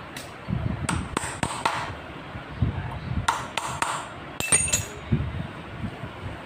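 The chain adjuster lock nut is tightened on a Royal Enfield Interceptor 650 motorcycle. Sharp metallic clinks and taps of a tool on metal come in scattered bursts over a low background rumble.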